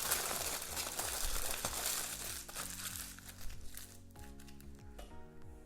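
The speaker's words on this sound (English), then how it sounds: "what I'm going to do now is scrunch up the foil" Dried gold leaf foil is scrunched up by hand close by, a dense crackling crinkle that runs continuously and fades slightly toward the end.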